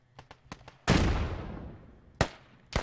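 Gunfire in the military shooter game Squad: a few quick light shots, then a loud close blast with a long decaying rumble, followed by two more sharp reports.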